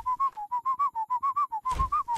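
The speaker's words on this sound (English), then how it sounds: "Wait, he's whistling bloody Zelda shit?" A character in the video game The Emperor's Own whistles a Zelda tune, a clear melodic run of about fourteen short, evenly paced notes up close, with a brief low rumble near the end.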